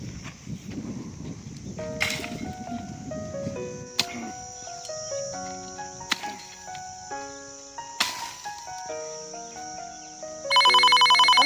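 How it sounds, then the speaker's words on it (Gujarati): A phone rings with a loud melodic ringtone of stepped electronic notes repeating in phrases, ending in a bright, rapid warbling ring. "ફોન આવ્યો લે"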